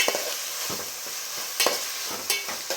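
Okra fries in a little oil in a pan, a bright steady sizzle punctuated by several distinct scrapes and taps of a spatula as it is stirred, close and alone.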